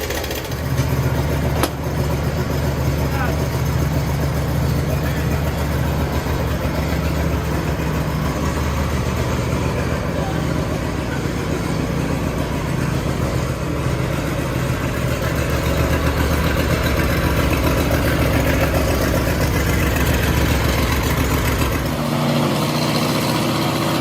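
A ride-on lawn mower engine, started with the choke on, runs at a steady, loud idle for about twenty seconds before its rumble drops away near the end, with no talking over it.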